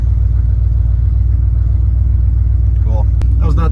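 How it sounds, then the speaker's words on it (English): A 1998 Honda Civic engine idling on a cold day: a loud, steady low rumble throughout, with a person talking briefly near the end. "I guess she's idling good now."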